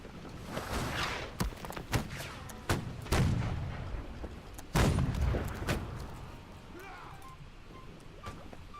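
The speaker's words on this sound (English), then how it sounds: "They seem to be getting some very good accuracy out of some of their guns." Cannons boom repeatedly in a coastal fort siege in Holdfast: Nations At War, with about eight sharp blasts of varying distance, some near and heavy, others fainter, over ambient background.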